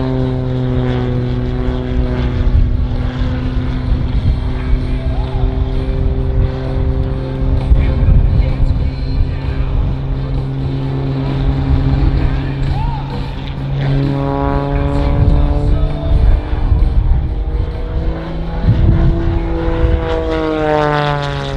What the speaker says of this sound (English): He's going to put the aircraft into knife edge flight, which is flying on the side